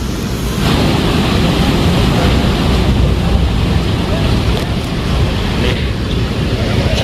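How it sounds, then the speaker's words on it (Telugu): Water pours loudly from the lifted gates of Osman Sagar and Himayat Sagar lakes in Hyderabad, a steady dense roar with wind buffeting the microphone throughout. "వావ్, నీళ్ళు బాగా వస్తున్నాయి ఇటు."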